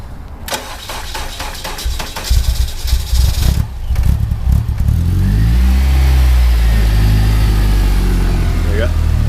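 A supercharged Ariel Atom fires up after a few cranks and clatters, then settles into a loud, close idle with blips of revving as it warms, with a person speaking briefly near the start.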